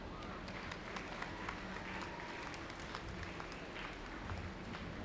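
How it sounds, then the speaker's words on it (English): Audience applause at a Maryland dairy princess contest, steady clapping from a sizable crowd lasting the whole stretch at moderate distance, no talk over it. "Let's give another round of applause to our team"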